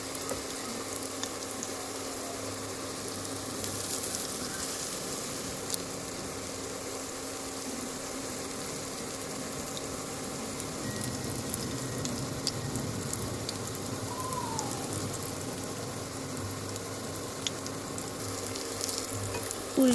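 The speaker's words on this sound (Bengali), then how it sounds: "উল্টে পাল্টে ভালো করে লাল লাল করে ভেজে নেব" Batter-coated Malabar spinach leaves fry into pakoras in hot oil in a wok, giving a steady, even sizzle and bubbling that continues at a moderate, fairly quiet level throughout, with no voices.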